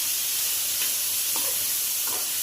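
Spice masala roasting briefly in hot oil in a pan for a prawn curry, a steady soft sizzle and hiss with a few faint stirring scrapes, close and continuous.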